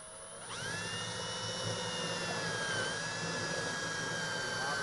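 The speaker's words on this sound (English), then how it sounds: "I'm fixing to drill Jimmy Houston's boat" A steady high-pitched power drill whine drilling into a fiberglass boat starts after a brief quiet moment and holds continuously, loud and close, with a low rumbling hum underneath.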